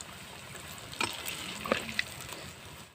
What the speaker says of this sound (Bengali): এইভাবে আমি ভেজে নেবো সবগুলো।